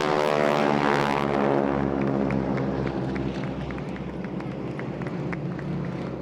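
A Stearman biplane flies past at a seaside airshow, its radial propeller engine giving a loud, steady droning roar with a rich harmonic hum that shifts in pitch as the aircraft moves.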